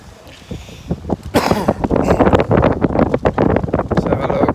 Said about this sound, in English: As you can see, it's a bit windy on the bridge today.